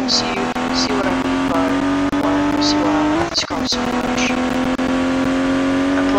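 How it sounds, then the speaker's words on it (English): Small engine of an Ibishu Pessima car in a video game revving in a steady buzzing drone, briefly dipping and surging midway, with someone talking over it. "there's a little engine up there, you can tell"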